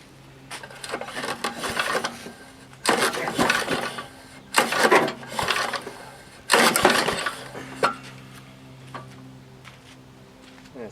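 Starter cord of a Tecumseh HS50 small engine pulled with no fuel in it, several separate rasping pulls spaced a second or two apart, each a short burst of cranking and rattling that fades to near quiet.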